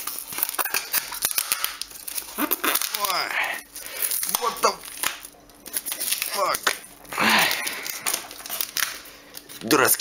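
Packing tape is torn and crumpled while a parcel holding a Sony Ericsson Elm J10i phone is unboxed, with close, continuous crinkling, ripping and crackling under intermittent talk.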